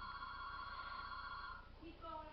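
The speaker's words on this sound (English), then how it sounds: "That's the phone." A telephone rings nearby with a steady electronic trill that stops partway through, followed by a few softer tones.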